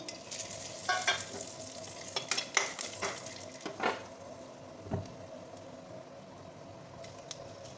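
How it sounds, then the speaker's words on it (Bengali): Bay leaf, cinnamon, clove and green cardamom go into oil just used for frying prawns, giving a soft sizzle with a few quick clinks and scrapes early on, then settling into a quiet, even hiss. "এই তেলেতেই একটা তেজপাতা দারচিনি লবঙ্গ ছোটো এলাচ দিয়ে দিলাম"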